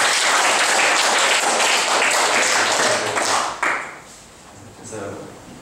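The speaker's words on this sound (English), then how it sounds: "Let's give her a round of applause." An audience bursts into loud, dense applause at a professional development workshop, the clapping sustained for several seconds before abruptly thinning out to scattered claps and quiet.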